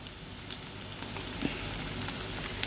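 Capsicum sautés in a hot skillet for a one-pan egg and cheese breakfast, a steady close sizzle and crackle with faint scattered pops and no talk.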